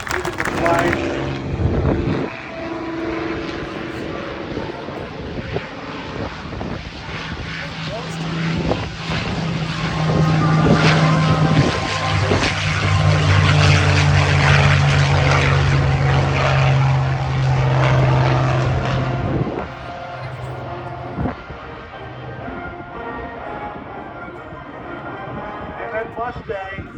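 A P-51 Mustang fighter plane with a single Merlin engine at an airshow, its loud propeller roar building to a sustained peak as it passes, then fading, with people talking in the background.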